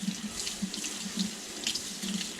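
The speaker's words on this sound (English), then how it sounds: "So now we have to tap water for about 1 to 2 seconds to cool it down." Cold water runs steadily from a tap over a boil-and-bite mouth guard, a continuous close splashing hiss for a couple of seconds with no talk.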